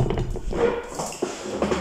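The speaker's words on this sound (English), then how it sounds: "Doggy." A dog whimpers and gives soft, short yips at close range, the sounds coming in quick bursts with a little background noise.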